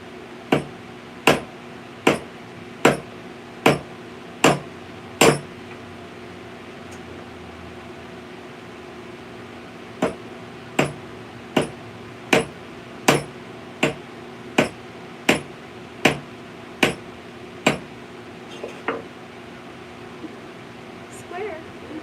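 Hand hammering on metal during soldered jewelry making: sharp, ringing blows in two evenly spaced runs of about eight or nine strikes each, with a short pause between, over a faint steady fan hum.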